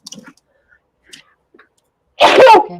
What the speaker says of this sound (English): Oh, I think I'm going to sneeze, you guys.